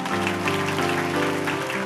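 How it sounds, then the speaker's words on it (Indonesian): A church congregation claps together, a dense, sustained wash of applause heard alongside steady tonal music throughout. "Kasih tepuk tangan untuk Tuhan."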